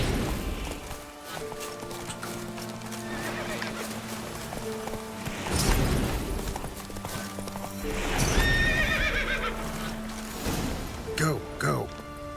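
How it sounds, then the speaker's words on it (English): A horse in The Witcher 3 whinnies and its hooves clop during play, loud neighs rising over clip-clop steps and game music, with a player talking throughout. "Well, that horse doesn't want to come with us."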